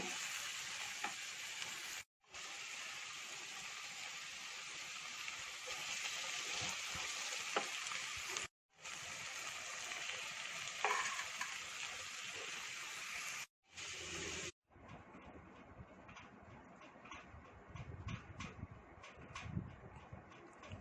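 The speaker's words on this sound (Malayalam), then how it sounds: "നന്നായി ഇളക്കി കൊടുക്കുന്നു" Garlic and ginger fry in a pan for a duck roast with a steady crackling sizzle. It breaks off in brief gaps, then turns quieter with scraping stir sounds as the spoon moves.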